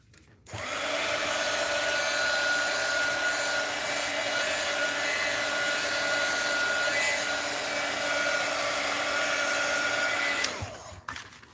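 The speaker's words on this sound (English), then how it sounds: "let's try the heat gun" A heat gun blows a steady hot-air roar for about ten seconds, switching on abruptly and cutting off near the end, loosening tape on a box in a craft setting, with no voices over it.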